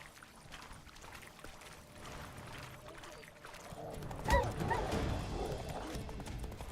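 Hoofbeats of Roach, a horse galloping in The Witcher 3: Blood and Wine, thud steadily at mid distance over a low game ambience, with a louder burst of impacts partway through.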